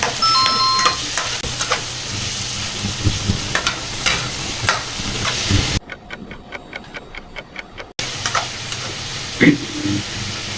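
Pork sizzling and frying in a pan for a tom yum tofu and egg dish, a steady crackle with stirring scrapes running throughout, briefly cut to a quieter ticking stretch before the frying returns.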